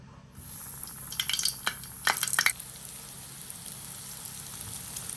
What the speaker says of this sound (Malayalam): ഇതിലേക്ക് നമ്മൾ ബ്രെഡിൽ കോട്ട് ചെയ്ത് വെച്ചേക്കുന്ന നമ്മുടെ പഴം ഇട്ട് കൊടുക്കാം